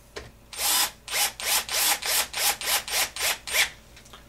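A tool tightens a flange nut on an HPI Baja SS RC car in about a dozen evenly spaced rasping strokes, close and steady, with no talking.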